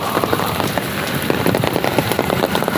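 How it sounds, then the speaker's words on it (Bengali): Heavy rain pours down steadily outdoors, a dense, loud wash of drops drumming on surfaces with no break, with no voices over it. "আর এখন অনেক জোরে বৃষ্টি হচ্ছে"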